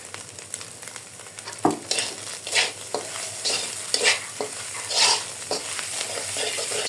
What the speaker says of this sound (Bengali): পেঁয়াজ ভাজা হয়ে গেছে, এখন আমি নুডলসগুলো দিয়ে দিব।